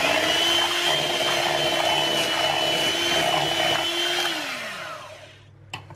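Ricotta cheesecake batter mixed with an electric mixer or whisk, a steady loud motor whir running unbroken for about five seconds before winding down, with a faint tap at the end.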